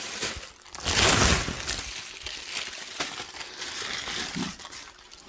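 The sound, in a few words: handling carbon paper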